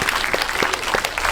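Short burst of audience clapping at a film talk event for the Korean film Hunt, brisk and close, with a faint crowd murmur underneath.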